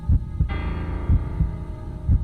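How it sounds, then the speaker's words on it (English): Heavy, thudding heartbeat from the video game Racing Lagoon, several deep low throbs pulsing over a steady hum, close and loud with no talking. "My ears were deafened by the thudding of my heartbeat."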